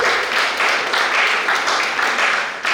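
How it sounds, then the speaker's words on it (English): Audience applauding a junior science and maths quiz team at a regional preliminary round, a steady dense wash of clapping that holds for a few seconds before tailing off. "Let's give them a round of applause."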